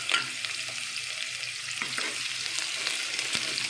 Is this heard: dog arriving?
no